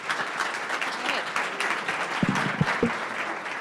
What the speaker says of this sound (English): Applause, guys.